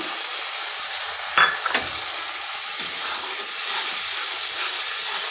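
Tomato puree cooking down in a hot pan with ginger paste, a loud continuous sizzle and hiss close up with occasional scrapes of stirring and no talk.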